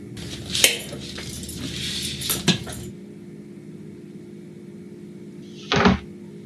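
Tea being made in a kitchen, with a few sharp clinks and knocks of cups and cutlery, brief close clatters separated by quiet room tone, ending in a short rattle.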